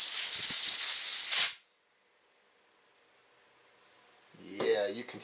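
Compressed air blasts through a Coleman check valve in a loud hissing burst, then stops; after a pause comes faint light rattling and a short rougher burst near the end as the loose valve jumps inside.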